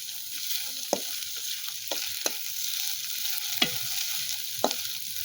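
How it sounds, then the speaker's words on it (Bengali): Chopped chilli frying in a pan for chow mein, a soft steady sizzle broken by about five distinct spatula knocks and stirring scrapes, heard close and alone. "এবার দিয়ে দিব লঙ্কা কুচি। আর আরেকটু নেড়ে নিব।"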